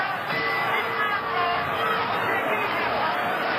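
Boxing arena crowd roaring through an active round of the Lyle vs Foreman fight, a dense, steady wall of cheering and babble that stays loud and even throughout.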